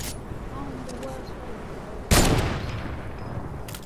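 A single sharp gunshot in the Fortnite video game, played on console in solo squads, cracks out midway with a decaying echoing tail, then a fainter shot follows near the end over a steady background hiss of game ambience.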